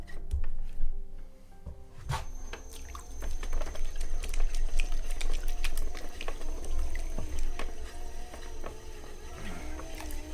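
A cheap pottery wheel spins while 5.5 pounds of clay are centered, giving a steady low motor hum with wet slapping, rubbing and squelching of clay under the hands, close and continuous.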